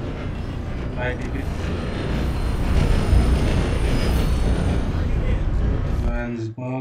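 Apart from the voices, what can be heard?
train from the video game Red Dead Redemption 2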